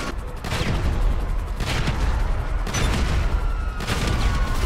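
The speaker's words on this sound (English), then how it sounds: "We're getting shot at." Sustained gunfire and explosions from a chaotic GTA Online battle, with repeated bursts and booms packed closely together, loud and continuous throughout with no talk over it.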